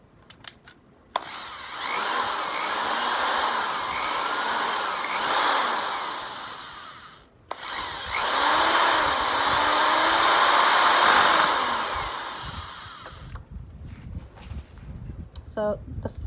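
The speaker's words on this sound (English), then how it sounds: "and we're going to screw this in." A corded power drill drives screws into a wooden garden bed: two long whirring runs of several seconds each, separated by a brief pause, loud and close, followed by quieter handling sounds.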